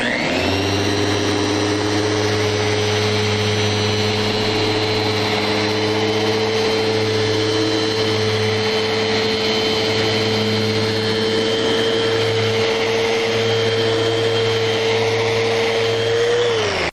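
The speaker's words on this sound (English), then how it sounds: "This sander will sand as fast as a belt sander, right?" Festool random orbital sander with dust extraction working a wood surface, a steady, continuous motor whine with a constant suction hiss, running loud and unbroken throughout with no talk.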